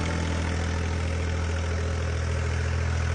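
A 31 hp farm tractor runs steadily, driving twin 4-inch and 6-inch water pumps on 10-metre shafts, with a constant low engine drone and broad mechanical hum and no pauses.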